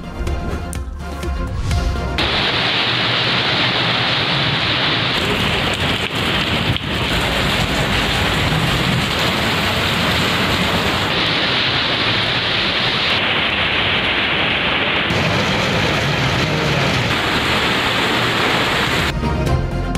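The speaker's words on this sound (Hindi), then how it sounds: "इस्लामाबाद और रावलपिंडी में मौसलाधार बारिश।" Heavy downpour over Islamabad and Rawalpindi, a steady loud hiss of rain pounding streets and surfaces, continuous and dense throughout with no voices.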